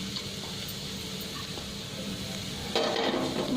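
Mushrooms and onion pieces frying in a pan as they are stirred together, a steady sizzle with soft scraping, growing louder and busier near the end.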